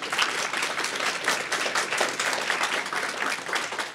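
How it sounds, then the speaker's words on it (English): Audience applause at a university Three Minute Thesis competition, many hands clapping in a dense, lively patter at steady moderate loudness with no talk. "So a round of applause."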